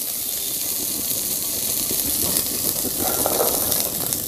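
Green peas sizzle in hot ghee in a pan, a steady bright hiss and crackle that holds evenly throughout, close and continuous with no voices.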